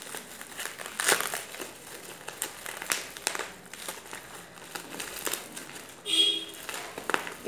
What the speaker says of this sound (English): it's taking time to open these packages